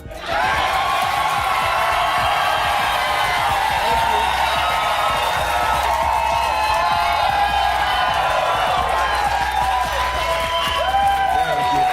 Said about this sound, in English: That applause wasn't only for a TV host returning after a suspension